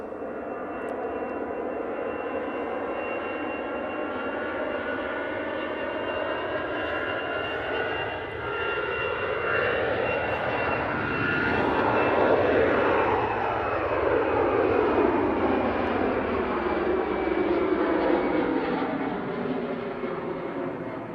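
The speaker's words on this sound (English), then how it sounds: "EasyJet to the Isle of Man will be out next" A departing EasyJet airliner bound for the Isle of Man roars continuously at Manchester Airport, its engine noise swelling to a peak midway and then holding a broad, steady rumble for about twenty seconds with no talk.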